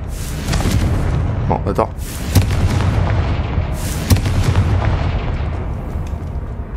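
Confringo fire spell explosions in Hogwarts Legacy go off as a run of loud, booming blasts with sharp cracks, layered over steady game music and sound effects, while someone talks briefly.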